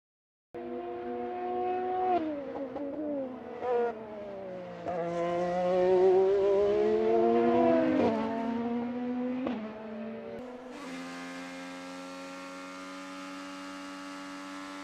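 IndyCar race car lapping Barber Motorsports Park during qualifying, a loud engine note rising and falling steadily through gear changes and corners, close and continuous, with no talking.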